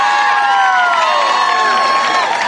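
A rally crowd claps and cheers loudly and continuously, with whoops and shouts layered over dense applause from start to finish.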